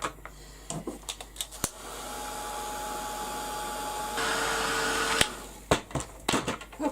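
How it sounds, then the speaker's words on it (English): A heat gun blasts hot air to dry a craft piece on a recycled box frame, giving a steady, loud whooshing roar for several seconds, framed by light clicks and handling sounds before and after. "I'm just going to give it a quick blast now with the heat gun"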